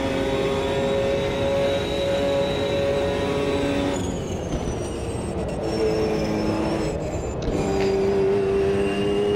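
Race car engine in Automobilista 2 revving hard and continuously, with sustained high-pitched engine tones that shift as the revs climb and drop, loud and close throughout with no voices.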